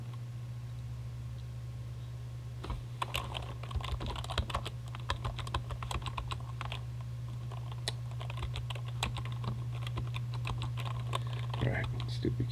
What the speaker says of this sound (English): alright, stupid keyboard.